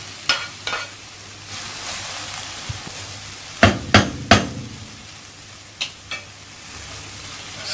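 Sweet potato and tomato stirred in a hot pan for a turkey empanada filling, a soft sizzle underneath with several sharp scrapes and knocks of the spoon against the pan, clustered in the middle and repeated near the end.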